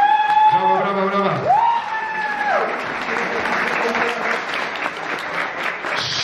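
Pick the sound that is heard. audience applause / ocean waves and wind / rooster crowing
audience applause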